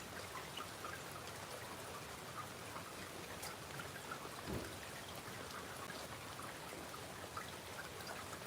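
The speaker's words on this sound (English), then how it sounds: "you can hear the water running through my gutter." Rain pours steadily around a house, with water running and trickling through the gutter under a broad, continuous hiss of drops, close and even, and no talking.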